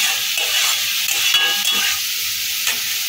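Chinese-style vegetable fried rice being stirred in a hot pan, a loud continuous sizzle with scraping and rustling of the stirring utensil, close up, without talk.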